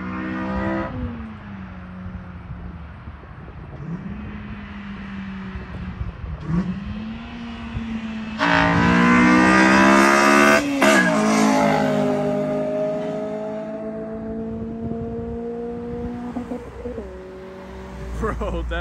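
A Honda K-series engine with an RBC intake manifold revs repeatedly, its pitch climbing through gears into a loud, screaming high-rpm wail, with voices talking over parts of it.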